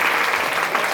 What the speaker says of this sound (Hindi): ताली बजाओ उनके लिए।